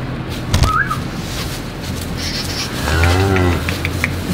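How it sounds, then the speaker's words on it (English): A heifer lets out a long, deep moo, close and loud, on a farm with faint background noise and a brief whistle-like sound before it. "That is a nice heifer."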